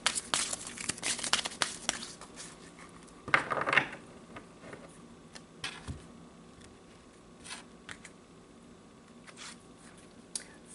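Tarot cards being shuffled and pulled, a burst of quick papery riffling and crinkling at the start, then a sharper card slide and scattered light taps and flicks, close and fairly quiet, with no talking.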